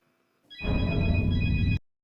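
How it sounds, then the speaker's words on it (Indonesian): A telephone rings in a single loud, steady burst of about a second and a quarter, starting and stopping abruptly, with no voices over it. "Untung saja bunyi telepon mengalihkannya."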